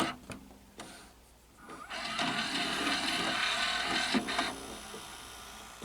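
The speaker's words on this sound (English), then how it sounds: "It does like some sort of a grinding sound." An ION VCR tape mechanism runs with a steady, rough grinding and whirring, preceded by a few mechanical clicks, close and moderately loud throughout.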